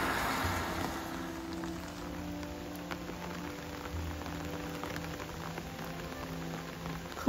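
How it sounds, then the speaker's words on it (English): Steady patter of rain drumming on a taut surface overhead, close and continuous, with a low mechanical hum underneath and no voices. "The rain on the umbrella."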